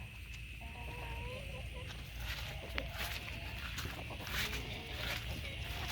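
Chickens on a farm after a hurricane cluck softly and intermittently over a steady outdoor background, with faint footsteps, a few scattered calls and no speech.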